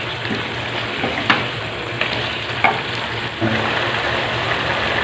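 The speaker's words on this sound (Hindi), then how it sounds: "इसको हमने 4 मिनट तक के लिए भून लिया है।" Meat for karahi gosht frying in a karahi, a steady close sizzle with a few clinks of stirring and a slight change as the pan is worked, loud and continuous without talk.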